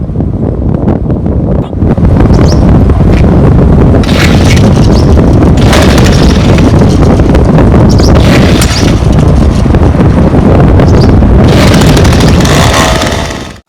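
A John Deere weed wacker runs continuously on a dairy farm, a loud, roaring engine drone sustained for most of the stretch, heavy with wind buffeting across the microphone and no voices.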